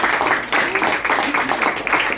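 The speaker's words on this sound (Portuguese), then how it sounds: "peço uma salva de palmas para ela" Group applause in a cinema during a tribute to Sandra, a dense burst of close clapping with voices mixed in, lasting the whole moment.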